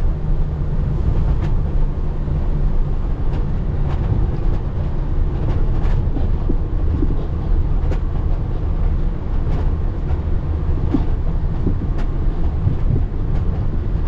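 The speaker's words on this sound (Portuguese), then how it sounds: "Descendo só no freio motor." Loud, steady low engine drone inside a heavy truck engine braking downhill in low third gear, with rattling and clunks from the cab over the constant rumble.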